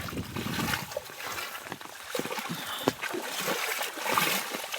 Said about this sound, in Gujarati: હજી એ વરસાદ ચાલુ જ છે